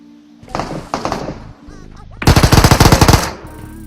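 Rapid bursts of video game automatic gunfire crackle close and loud, a short volley followed by a longer sustained stream of shots.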